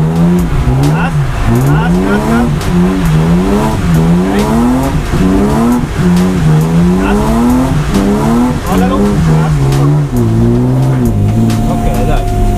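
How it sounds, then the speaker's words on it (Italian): A car drifts a handbrake donut around a cone, its engine revving in rising and falling waves while the tires squeal continuously, loud and close, with people talking over it. "Freno a mano e proviamo a collegarci una ciambella intorno al cono."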